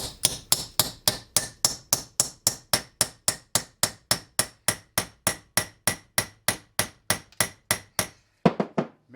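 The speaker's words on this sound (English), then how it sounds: "I've got my chisel, I've got my little hammer" A small hammer drives a chisel into a Washington concretion in a rapid, even run of about thirty sharp metallic strikes, close and loud, before the blows stop and a few scraping knocks follow.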